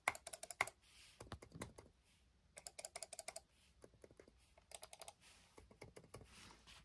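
Fingers type on a Logitech MX computer keyboard in quick clattering bursts separated by brief pauses, crisp and close yet recorded at a low level.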